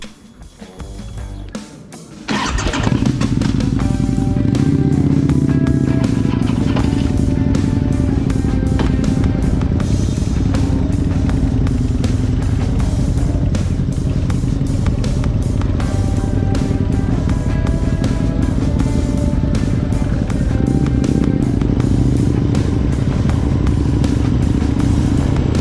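Custom motorcycles pull away together on a group ride, a burst of throttle giving way to a loud, continuous engine roar with clattering and wind noise throughout.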